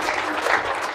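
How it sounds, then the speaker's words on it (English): An audience claps loudly and continuously at the end of a live motivational talk, a dense, close wash of applause with no pause. "Give us another round of applause"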